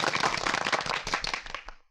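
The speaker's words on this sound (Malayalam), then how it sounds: "എല്ലാവരും ഒന്ന് കൈയടിച്ച്." An audience claps briefly in a burst of applause that holds steady and then fades out within two seconds.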